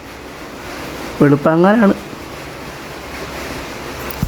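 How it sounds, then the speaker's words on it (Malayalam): Steady rain falls at dawn on Easter morning, a soft continuous hiss that runs through the whole stretch, with one brief spoken phrase partway through. "മഴ പെയ്യുന്നുണ്ടല്ലോ"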